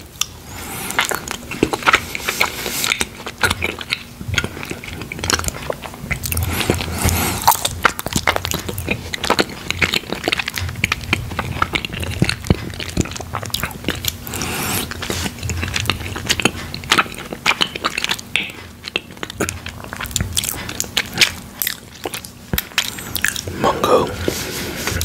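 Soft, chewy mochi ice cream is eaten close to the microphone, with repeated sticky bites, squishes and chewing in a dense, continuous stream.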